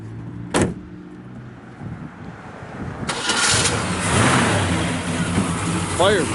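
A 1968 Chevrolet Chevelle SS 396 engine cranks and catches, settling into a deep, rumbling idle with a steady throaty roar from the exhaust, close by; a voice is briefly heard.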